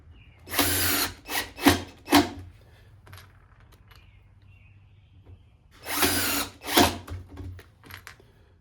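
A power drill drives screws into the wooden brood box of a honeybee hive, two clusters of short whirring bursts several seconds apart, close and fairly loud with quiet pauses between.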